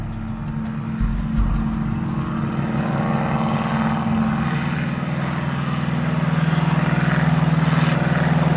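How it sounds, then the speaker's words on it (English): Antique 1928 airplane in flight, a continuous droning engine and propeller roar with a steady low throb that swells slightly louder toward the end, fairly close and without any talking. "When this airplane is flying and it's away from the cities, it is 1928."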